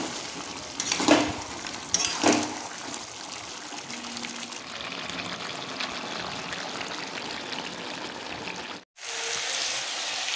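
Chicken browning in a pan sizzles steadily while a spoon scrapes and stirs it, with a few louder stirring bursts early on and a brief drop in the frying sound near the end.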